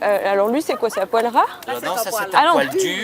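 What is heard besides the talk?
No distinct noise like a dog, phone or traffic.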